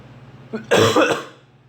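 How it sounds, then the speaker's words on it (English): A single short, throaty cough bursts out after a moment of quiet, close by, then fades away with no talking. "I gotta let a cough out."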